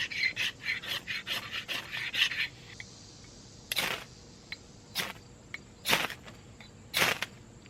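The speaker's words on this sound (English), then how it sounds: "I'm gonna grab a cheap knife and we'll do a couple of strikes" A cheap knife is dragged over a fire starter rod: a close run of quick rasping scrapes, then a handful of sharp, separate strikes spaced about a second apart.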